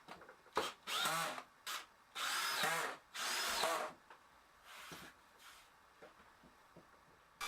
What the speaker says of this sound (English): so I sanded the whole surface down a little bit.